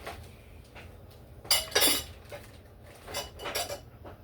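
Pans, a tray and a colander clatter and clink while being washed by hand, with several sharp metallic knocks and scrapes over a quiet background of running water.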